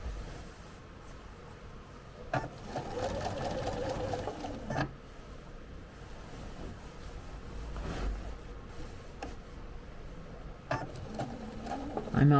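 A sewing machine stitches slowly around a curved quilt piece, a close mechanical whir that runs in short bursts with brief pauses and small clicks as the fabric is turned.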